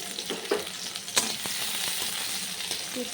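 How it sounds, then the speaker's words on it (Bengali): Chopped onion, garlic and green chili sizzle steadily in hot oil in a wok-style pan, a continuous close frying hiss with a few sharp utensil clinks and scrapes, no talking. "কড়াইতে তেল দিয়ে দিয়েছি এবার আমি কেটে রাখা পেঁয়াজ কুচি রসুন কুচি কাঁচা লঙ্কাগুলো দিয়ে দেবো"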